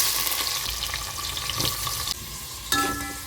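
Onions frying in hot oil with spices for chicken biryani give a steady, close sizzle, with a few soft shifts as the pan is stirred.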